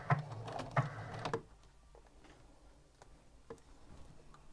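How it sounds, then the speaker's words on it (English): A sewing machine stitches a French seam in a short loud burst of rapid ticking, then stops, leaving a quiet room with a few faint clicks. "now as I'm sewing, I'm putting a bit of pressure just behind the sewing foot and just in front"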